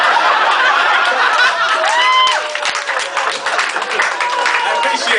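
A stand-up comedy audience claps and chuckles in a loud, diffuse burst of applause, mixed with a performer's voice talking over it.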